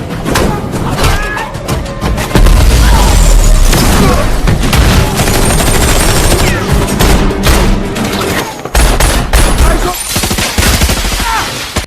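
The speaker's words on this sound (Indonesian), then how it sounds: "kelompoknya Max yang datang dengan sebuah ledakan. Hingga membuat pertikaian pun akhirnya tak dapat dihindarkan." Action fight scene from the 2022 film The 355, loud blasts and rapid bursts of gunfire layered with booming impacts and score, dense and intense throughout with brief drops between volleys.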